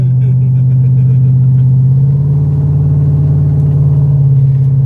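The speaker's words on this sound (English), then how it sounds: "That's why I was revving it." A brand-new LS swap V8 in a Bronco idles and revs loudly up close, a deep, steady throbbing rumble with a slight rise in pitch partway through.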